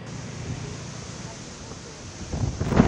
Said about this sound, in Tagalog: Sa lakas ng hangin, tila matutumba na ang mga puno.